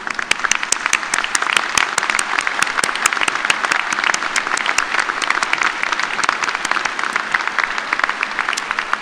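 A commencement audience applauds graduate faculty at a spring graduate school ceremony, with sharp individual claps standing out in a steady, close, sustained round of clapping.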